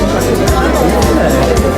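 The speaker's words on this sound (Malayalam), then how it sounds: "ഇതുണ്ട് ജനക്കൂട്ടം നോക്കി എത്ര ആളുകളാണെന്ന്." Dense crowd chatter at the Strasbourg Christmas market at night, a steady close babble of many voices with footsteps and movement mixed in.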